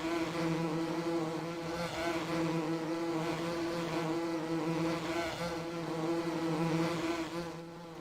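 Bees hum around beehives on a farm in Farming Simulator 19, a continuous droning buzz with a steady tone, moderately loud and unbroken, with no talking.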